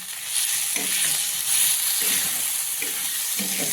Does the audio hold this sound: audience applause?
no